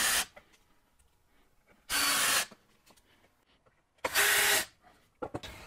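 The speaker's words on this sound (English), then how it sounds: "And now I can drive the screws to hold these boards together." Power drill driving screws into wooden boards in a workshop, two loud sustained bursts of about half a second each, separated by quieter handling clatter.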